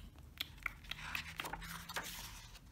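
Someone bites into an apple in a children's cartoon, making a few faint, crisp crunching snaps spread across the moment, with no talking.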